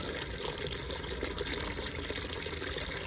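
Water gushes steadily from an outdoor tap on an allotment, filling a drinking container for chickens, a loud, even rush with no break and no voices.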